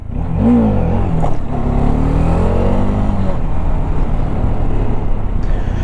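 A Bajaj Dominar 400 motorcycle accelerates hard at full speed, with a loud, steady engine roar rising in pitch and continuous wind rush, and no voices.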